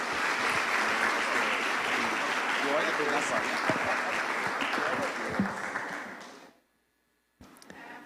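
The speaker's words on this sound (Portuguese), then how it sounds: "eu quero que vocês recebam ele aplaudindo bem forte o nome do Senhor" A church congregation applauds loudly and steadily for several seconds, a dense wash of clapping that fades out into a brief silence before voices return.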